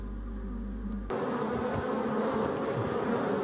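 Honeybees at a forest hive drone in a steady, dense buzz that swells louder about a second in, then holds as a close, continuous hum with no voices.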